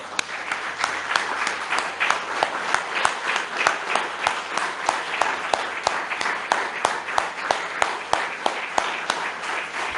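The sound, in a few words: applause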